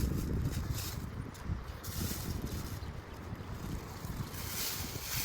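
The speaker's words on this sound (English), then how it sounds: "Of course, it has to be windy out, but that's all right." Steady wind buffeting the microphone, a continuous low rumble with gusts that swell and ease throughout, no voices.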